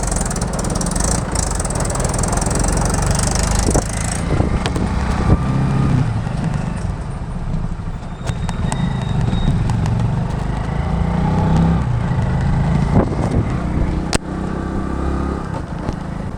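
A tractor engine roars loudly and continuously as it is driven fast, with rattling and clattering throughout as stones fall off the load, recorded close by from the roadside.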